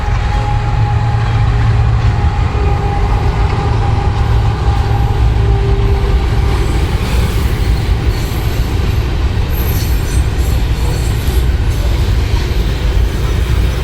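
A train rumbles past nearby with a steady heavy roar, rattling wagons and a faint wheel squeal running throughout, in Surat, India.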